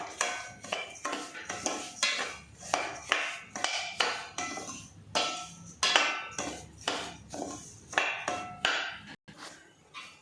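A metal spoon scrapes and knocks rhythmically against a pan while beetroot is fried in ghee for kesari, producing a steady series of close, bright stirring strokes about once per second.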